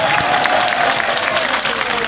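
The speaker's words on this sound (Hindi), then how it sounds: "इनके लिए जोरदार तालियां एक बार पीछे तक बजनी चाहिए" Loud, dense applause from a large crowd at an outdoor political rally in Mustafabad, Delhi, sustained and even throughout.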